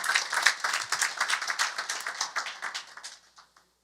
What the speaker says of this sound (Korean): 그런 의미에 있어서 이러한 문화를 선도하고 계신 우리 총재님과 총장님께 박수 한번 쳐드릴 필요가 있지 않겠습니까?